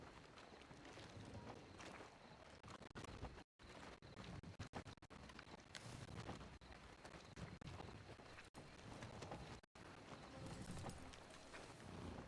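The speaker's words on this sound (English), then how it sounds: "It's a pretty horse." A horse's hooves clip-clop in a steady walking rhythm in the WildRP western video game, close and moderately loud, with light wind noise and brief gaps in the sound.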